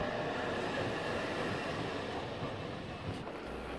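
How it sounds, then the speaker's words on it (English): A German ICE high-speed train running, heard as a steady, loud broadband rumble and rush that holds constant throughout with no voices. "One of the newest, fastest, and most sophisticated trains is the ICE that is now in service throughout Germany."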